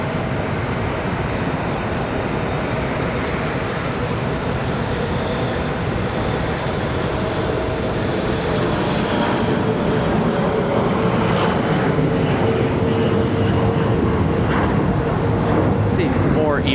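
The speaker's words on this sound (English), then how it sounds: "ERJ departure here" Embraer ERJ jet departing Charlotte Douglas airport, its engines producing a loud, sustained roar that fills the whole stretch, with a faint whine riding on top.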